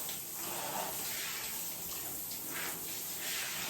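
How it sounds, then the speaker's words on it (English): Hose sprayer rinsing a dog during a bath, a steady, close hiss of spraying water that runs unbroken for several seconds with no talking. "The rinsing function of this sprayer really does make it easy on everybody."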